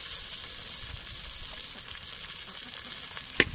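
Prawn biryani ingredients with coriander and mint sizzle and fry in a clay pot, a steady crackling hiss throughout, with a sharp clink of a utensil near the end.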